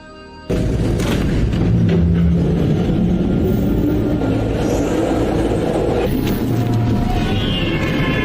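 A subway train pulls away after its doors close, starting abruptly with a loud, steady rumbling roar that stays close and constant, with brief higher screeches riding over the drone.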